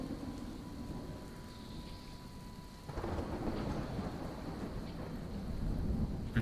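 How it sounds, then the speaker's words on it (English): Rainfall in the survival game Smalland, a soft patter under a low rumble at first, then the rain thickens into a heavier, louder downpour with rolling thunder swelling toward the end. "We have a little bit of rain starting right now."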